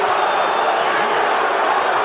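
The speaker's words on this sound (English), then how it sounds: "the part of the crowd that supports Holyfield boos lustily when the Let's Go Bowe chant breaks out" A dense boxing arena crowd roars and chants throughout, with a rising cheer supporting Bowe at the Bowe vs Holyfield fight, steady and loud with no clear individual voices.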